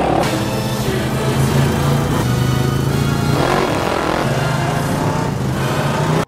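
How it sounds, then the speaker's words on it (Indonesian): Two motorcycles roar loudly and continuously through a film chase scene, engines revving steadily close by with a dense mix of other sound, cutting off abruptly at the end. "2 pengendara motor mengejar Roman"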